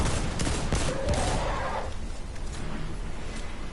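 Hip-fire gunshots in the Destiny 2 Forsaken video game, a rapid loud fusillade of shots in the first two seconds, then fading to a dense rumbling background.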